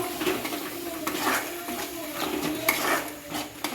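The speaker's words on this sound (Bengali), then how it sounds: "ভালো করে মশলাটাকে কষে নেবো" Metal utensils scrape and clink against a pan while a spice paste of cumin, poppy seed, cashew, tomato and ginger is stirred and fried, a steady close clatter with a faint sizzle underneath.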